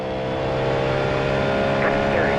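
Cadillac GTP prototype race car in iRacing, its engine holding a loud, steady drone at speed through a lap, with a faint upward sweep near the end.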